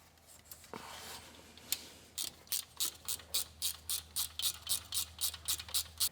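Ratchet wrench running down injector hold-down bolts on a first-gen 12-valve Cummins diesel, a steady series of about twelve quick, evenly spaced clicking bursts, close and clear with no talking.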